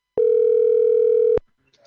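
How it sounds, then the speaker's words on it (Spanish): A steady electronic telephone tone sounds once, clear and close, for just over a second while a call is placed to the Casa de la Libertad, then cuts off into near silence. "El teléfono suena en la Casa de la Libertad"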